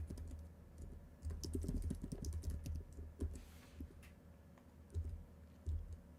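Brisk typing on a computer keyboard while a tweet is written, a dense stream of close clicking keystrokes in uneven bursts over a low room hum, with no talking.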